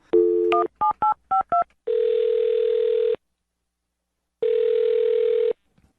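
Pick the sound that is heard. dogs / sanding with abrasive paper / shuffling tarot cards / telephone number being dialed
telephone number being dialed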